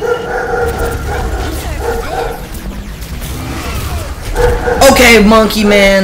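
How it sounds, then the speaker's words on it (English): A dog barks and yips in the background, several sharp barks in quick bursts, recurring and louder toward the end, while a person talks over Overwatch game sounds. "Pardon the dog in the background."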